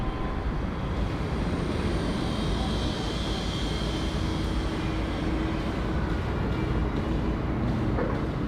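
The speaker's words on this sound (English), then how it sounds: "So she's a beautiful sounding aircraft, this one. The 4 RB211s." A Boeing 747 with four Rolls-Royce RB211 engines roars steadily at an airport in Bangkok, a broad, sustained jet rumble heard from a distance with no speech.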